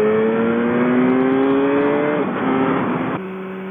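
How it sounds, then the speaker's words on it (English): A brand new 2014 BMW S1000RR motorcycle engine drones loudly and steadily under the rider, pitch climbing through the gears before dropping back to a lower hum as it slows. "I am now on a brand new BMW S1000RR"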